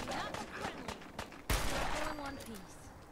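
A single loud gunshot in a post-apocalyptic wasteland video game cracks out sharply midway, following a stretch of speech and game sounds, then rings into a broad noisy tail under continuing background audio.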